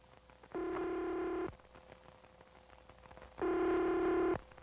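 A telephone rings twice and goes unanswered, each ring lasting about a second with a quiet gap between them, sounding faint and slightly tinny against a low background hiss.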